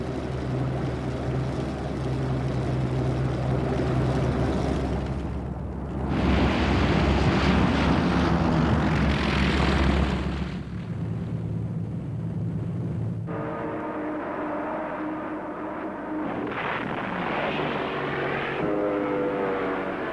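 Japanese Zero fighter planes attacking the American 7th Fleet at Pearl Harbor, a loud droning engine roar that swells and shifts in pitch as the aircraft pass, with stretches of rushing noise between.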